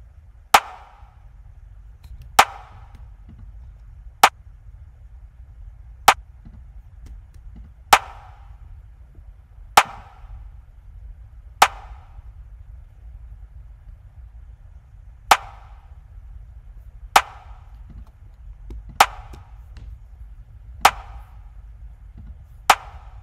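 Processed snare drum hits in a music mix ring out soloed: about a dozen sharp, crisp cracks, evenly spaced roughly two seconds apart, each with a short decay over a faint low hum.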